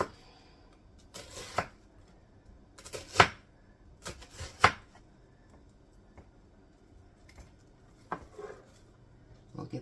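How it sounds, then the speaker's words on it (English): Knife chopping onion on a cutting board in a home kitchen while making sweet potato black bean soup, a few sharp irregular thuds and taps spaced out with quiet pauses between. "We'll get this chopped up in there."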